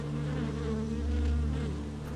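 Honey bees buzz around beehive frames at an apiary in Romania's Carpathians, a dense, steady droning hum that stays close and loud throughout without any speech.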